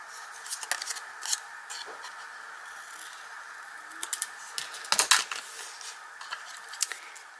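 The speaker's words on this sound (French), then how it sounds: "Je vais couper un peu." Scissors snip through paper for a bullet journal page, giving a series of crisp, close cuts in short irregular bursts with a soft rustle of paper between them and a denser cluster of snips near the middle.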